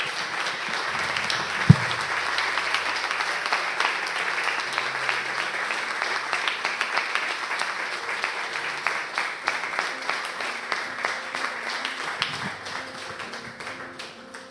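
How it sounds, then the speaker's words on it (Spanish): A church congregation applauding the Lord together, a sustained roomful of clapping that holds steady and slowly thins toward the end, with a few faint voices mixed in. "Dale un fuerte aplauso al Señor, mi hermano."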